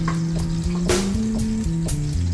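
Garlic sizzles in hot cooking oil before black beans go in, a steady frying crackle under a low continuous hum, with a brief louder burst of spattering near the middle.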